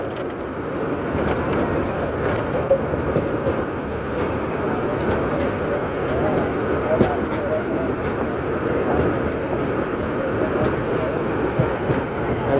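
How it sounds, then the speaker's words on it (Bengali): Karnaphuli Commuter local train rolling into Akhaura railway junction in Bangladesh, a loud, continuous rumble with rattling carriages and scattered clicks of wheels over the rails, steady throughout. "আখাউড়া রেলওয়ে জংশনে প্রবেশ করছে ট্রেনটি"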